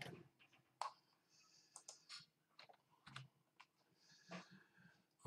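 Typing on a computer keyboard, with scattered clicky keystrokes in irregular short bursts and pauses, close and fairly quiet, with no voice.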